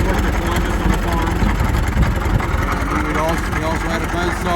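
The engine of a 1919 Fordson F tractor runs at a loud, steady chugging idle at an old machinery show, while people talk nearby over the continuous mechanical rumble.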